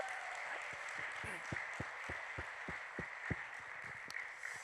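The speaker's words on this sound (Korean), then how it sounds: "개봉 박수" A church congregation claps to mark the opening of a prayer jar, a steady patter of hand claps with a few distinct louder claps standing out, moderately distant and fairly soft.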